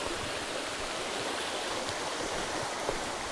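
A trout stream running low in summer, flowing steadily with a dense, even rush of water that fills the whole stretch without pause, up close, with no voices over it.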